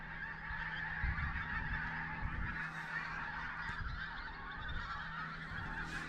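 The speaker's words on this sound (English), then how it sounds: "You can hear the noise that they're making. Look at them, flocks of them. A flock of geese" A flock of geese honks repeatedly as the birds come in to land over open country in Scotland, their overlapping calls steady and moderately distant.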